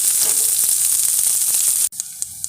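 Onions frying in oil for potato rice, a dense close sizzle that cuts off sharply near the end, leaving a few faint pops and clicks.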